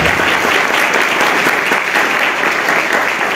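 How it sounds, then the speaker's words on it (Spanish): Loud, sustained applause fills a hall at a formal commemorative ceremony, a dense unbroken wash of many hands clapping close by with no talk over it. "Fuerte el aplauso, por favor."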